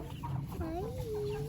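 Chickens loaded in a trailer cluck softly nearby, a few short clucks and a rising warble over a low murmur of background noise.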